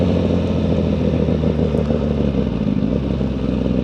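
Suzuki GSX-R1000R sport bike engine held at steady throttle around 4,000 rpm in A mode, a loud continuous close-up drone with a rough, even texture and no speech.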